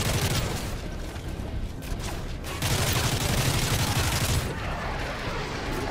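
Dense gunfire in the Call of Duty Modern Warfare 3 video game, a continuous crackling barrage of rapid shots and bursts that briefly eases midway, then resumes loud and close.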